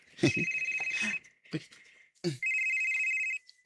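A telephone rings with an incoming call: two long electronic trill bursts, each about a second, sounding close and loud. Brief speech-like sounds and clatter fall between the rings.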